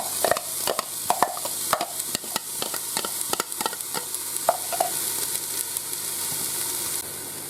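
Yellow, green and red onions sizzle in a Ninja Foodi pot, a steady hiss broken by irregular scraping and clicking stirs close by, with no talk.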